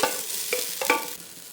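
Grated coconut roasting in a hot pan over a medium flame for tapioca biryani, with a soft steady sizzle and a few distinct scraping stirs of a spoon against the pan.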